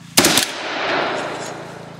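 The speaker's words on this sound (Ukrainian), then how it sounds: "До салюту готуються." A sharp, loud volley of rapid gunshots from a memorial gun salute at a Ukrainian Insurgent Army commemoration in Morozivka cracks out at once, followed by a long rumbling echo that slowly fades.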